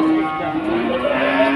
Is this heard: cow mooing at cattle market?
yes